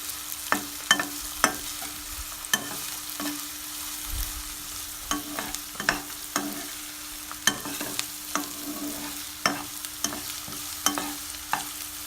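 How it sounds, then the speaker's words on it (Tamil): Onion with green chili and curry leaves sautéing in a pan for a green peas masala, a steady close sizzle with regular clinks and scrapes of a spoon stirring throughout, no voices. "ஒரு பச்சை மிளகாய், கொஞ்சம் கருவேப்பிலை ஆட் பண்ணிக்கலாம். ஆட் பண்ணி இதையும் நல்லா வதக்கி விட்டுக்கோங்க."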